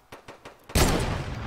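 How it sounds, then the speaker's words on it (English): Gunfire in the Fortnite battle royale video game: a few faint, evenly spaced distant shots, then a loud sustained burst of rapid fire that rolls on without any talking. "I hear shots over there, people shooting him too"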